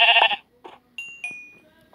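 In a survival video game, a sheep bleats sharply as it is struck, followed by a few short, clipped game sound effects in otherwise quiet surroundings.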